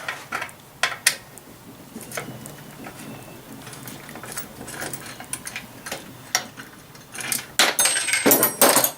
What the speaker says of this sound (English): You got two bolts right here on the bracket. You're just going to unscrew them, pull them out.